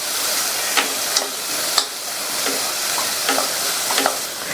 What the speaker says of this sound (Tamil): சேர்த்து இந்த வெஜிடபிள்ஸ் எல்லாம் 1 நிமிஷத்துக்கு வதங்கட்டும்.